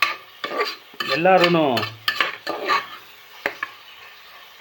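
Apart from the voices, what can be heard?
stirring and roasting spices in a pot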